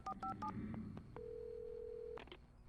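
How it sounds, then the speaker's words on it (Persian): A telephone is dialed in the video game Alan Wake Remastered. A quick run of several keypad beeps is followed by a steady tone of about a second, then a couple of short clicks, all fairly quiet with no speech. "تلفن."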